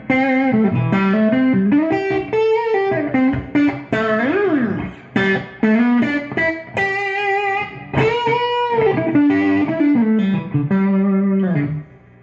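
An electric guitar with humbuckers plays through a mildly overdriven distortion pedal, loud and close, sustained chords and bends ringing out with bright harmonics and brief pauses.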